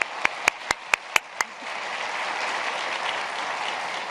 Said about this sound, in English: We have to give him another round of applause.